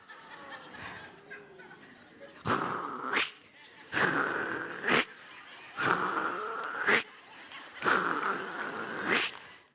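A person imitates the rhythmic rubbing, crunching sound of pants rubbing together at the thighs, four harsh bursts spaced evenly after a quieter, breathy start.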